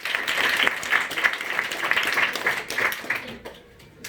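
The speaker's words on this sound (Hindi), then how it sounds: "ताली बजाइए इनके लिए" Crowd applause at a rationalist gathering in Surat, Gujarat: a sustained patter of many hands at moderate volume that thins and fades toward the end.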